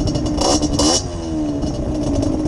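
A motorcycle kick-started in snow, its engine catching with a clattering burst, then revving up sharply and settling into a rising, whining mid-pitched drone, close and loud.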